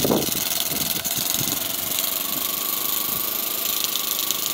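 A Cheddar Gemini model steam plant, left unrun for over 30 years, runs with a continuous dense mechanical whirr and buzz, steady and close, with no pauses.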